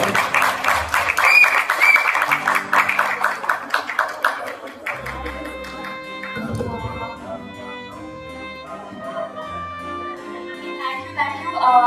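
Applause from an audience at a film award ceremony honoring a best debut actress, a burst of clapping over music that fades after a few seconds, leaving soft musical tones.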